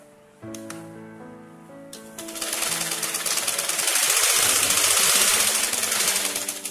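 A sewing machine stitching a chudidar neck piece starts with a low motor hum, then breaks into a loud, rapid, even rattle of stitching that builds and holds steady.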